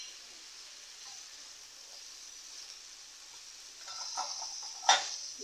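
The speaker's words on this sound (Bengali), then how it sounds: "এখন নেড়ে সুন্দর করে মিশিয়ে নিচ্ছি" Radish pieces with salt and turmeric hiss softly in a pan, then a spatula mixes them with a brief burst of scraping and clattering near the end.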